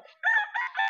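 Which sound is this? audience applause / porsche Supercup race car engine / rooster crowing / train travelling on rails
rooster crowing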